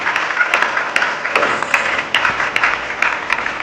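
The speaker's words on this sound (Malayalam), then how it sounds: "ഒന്ന് കൈയടിച്ച് ഒരു കുഞ്ഞു പ്രതിഭ." A crowd applauds a young district karate championship gold medalist at a village panchayat anniversary celebration: dense, continuous clapping, fairly loud and close, with no talking over it.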